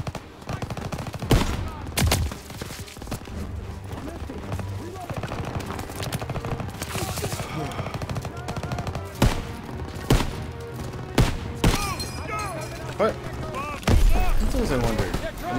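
Machine gun fire during the Death Factory assault in Call of Duty WWII, with repeated loud bursts and sharp shots over constant battle noise, close and heavy, while soldiers talk over the shooting.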